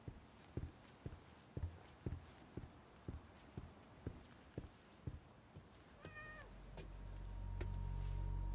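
A house cat in a game setting gives a short, clear meow after a run of steady, evenly spaced footsteps on a hard floor, followed by a rising low rumble.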